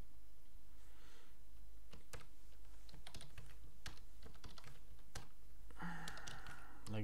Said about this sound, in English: and you can just type MOBA.